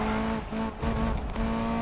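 A Ferrari F40LM on a grip build in Need for Speed 2015 slides with a sustained engine drone and tire squeal, briefly broken by a few gear or throttle dips.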